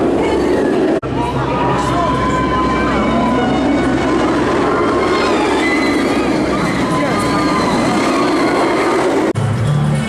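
The Nemesis Inferno roller coaster at Thorpe Park roars in a loud, continuous rumble of wheels on track with rattling and squealing, heard close up amid crowd noise and shouting voices.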